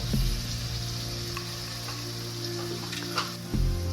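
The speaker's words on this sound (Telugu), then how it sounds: "అల్లం పచ్చి వాసన పోయేంత వరకు వేయించుకోవాలి" Ginger paste and turmeric frying in oil in a pan for a spicy chicken gravy, a close, steady crackling sizzle with a low hum beneath it and a brief stir near the end.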